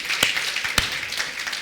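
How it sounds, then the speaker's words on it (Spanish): Church congregation clapping, a dense, continuous wash of many hands with a couple of sharper single claps standing out, moderately loud and brief. "Alguien dele un aplauso al Señor"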